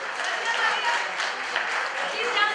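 Guests at a family birthday party applaud together in a brief burst of clapping, with voices mixed in among the crowd.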